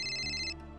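A telephone rings with a bright electronic ringtone, one short burst that cuts off partway, over a low background music bed.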